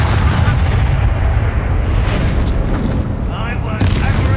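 A Bombarda explosion spell in Hogwarts Legacy sets off a loud, dense booming blast that rumbles on through combat noise, with a voice in the mix.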